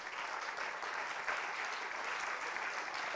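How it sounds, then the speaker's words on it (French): Steady audience applause fills an award ceremony for media innovation prizes, a dense, even patter of clapping hands that holds at moderate volume from start to finish with no voices over it. "On peut les applaudir pour ce prix."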